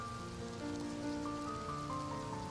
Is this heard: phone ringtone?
no